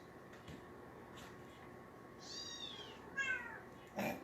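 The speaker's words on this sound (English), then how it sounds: "Meow. Meow." Two high, drawn-out cat meows sound a second apart over quiet room tone, followed by a brief sharper mew.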